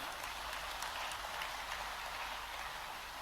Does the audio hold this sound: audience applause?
yes